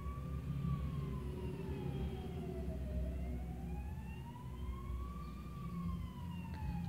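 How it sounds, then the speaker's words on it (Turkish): An emergency vehicle siren, ambulance or fire engine, wails steadily from a street visible behind the home. The tone rises and falls slowly across the whole stretch over a constant rumble of traffic, with no talking. "Ambulans sesi mi var? İtfaiye sesi mi var?"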